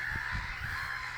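Birds call in short, nasal, honking bursts over a steady background hiss, faint and continuous for just over a second.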